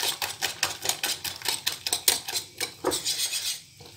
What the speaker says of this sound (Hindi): बस हमने इसको और अच्छा सा बीट करना है ताकि ये खूब अच्छा सा अंडे के साथ जो है सब्जियां